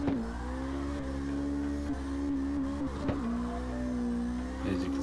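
The Mira car engine in CarX Drift Racing 2 hums and revs steadily, rising and dipping with gear changes, loud and continuous with no voices over it.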